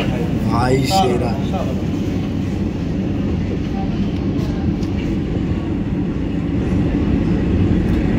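A Kolkata metro train runs between stations toward Dakshineswar with a steady low rumble and rattle, a brief whine of wheels near the start, while someone talks over the ride.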